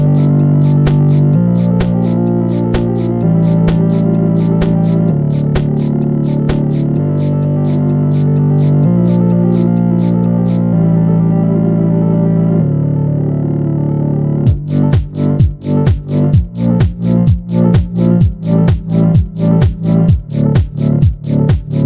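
Three stacked oscillator-bot synth voices layered on a Boss RC-505 MK2 looper with reverb, sustained droning tones shifting in steps, then a fast pulsing arpeggio entering loudly near the end, alone without talk.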